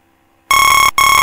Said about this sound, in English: Only after pressing the dismiss button, this repeated sound, alarm sound will be turned off